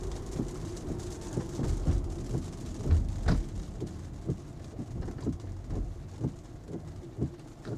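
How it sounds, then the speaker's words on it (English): Rain drums on a car moving along wet roads, heard from inside as a dense patter of drops with occasional heavier taps over a low, steady rumble of driving. "Here comes the rain."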